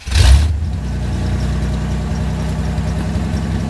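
A worn-out 1992 Chevy S-10 pickup truck engine idles with a steady low rumble close by, following a brief loud thump at the start, with no voices.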